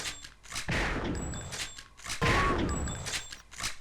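Heavy cannon fire in a multiplayer video game tournament match: two big booming blasts about a second and a half apart, each with a ringing tail, among sharper metallic clanks and dings.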